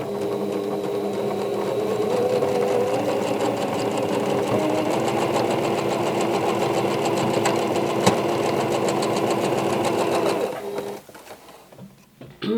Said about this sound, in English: you're going to sew it so it's going on top of all 3